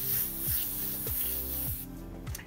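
An airbrush sprays paint for a soap bubble picture, a close, steady airy hiss broken by a few quick trigger pulses over a couple of seconds.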